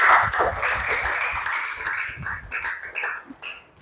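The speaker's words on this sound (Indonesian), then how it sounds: "Tepuk tangan." A classroom audience applauding, dense clapping that stays fairly loud and steady for a few seconds before slowly thinning out.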